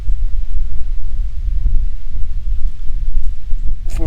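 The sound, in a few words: wind blowing on a windy afternoon while fishing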